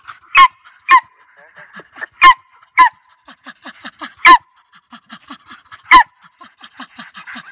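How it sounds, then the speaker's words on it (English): Sharp, loud barks from German hunting terriers in short bursts, with whines and yips between them, from more than one dog close by. "German hunting terriers"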